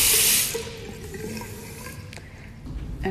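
Water running from a tap into a sloped bathroom sink that drains through a narrow slit, starting in a loud splashing rush and then dropping to a steady, softer trickling flow.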